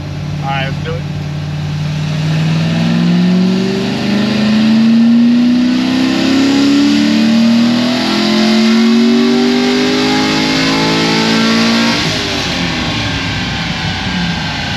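A naturally aspirated LS7 V8 revs hard on a dynamometer, its pitch climbing steadily through a long pull before dropping off near the end, loud and close with voices talking over it.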